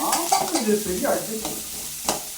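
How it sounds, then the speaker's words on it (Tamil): Chopped onions sauté in a pan for okra kuzhambu, a loud close sizzle with continual stirring scrapes and a few squeaky spatula strokes. "நான் அட்ஜஸ்ட் பண்ணி வதக்கிக்கிறேன்"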